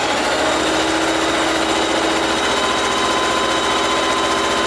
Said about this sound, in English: right sides together, I'm just going to do a straight stitch down it